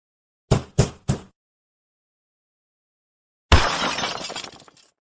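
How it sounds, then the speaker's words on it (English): Hammer blows smash a bathtub: three quick sharp cracks in a row, a pause, then one loud shattering crash that trails off in scattered breaking debris. "I'm going to smash the bathtub with a hammer."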